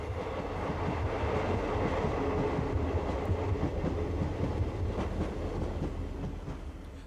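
Modern Class 158 diesel unit running on a Scottish railway, a steady rumbling roll of wheels and engine with faint rhythmic clatter, moderately distant and fading slightly at the end.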